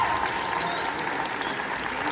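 Applause from an audience at a music master class recital, a dense steady patter of many hands clapping close by that runs continuously throughout.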